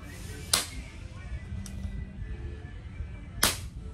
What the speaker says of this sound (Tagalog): Putok natin, parang walang hangin.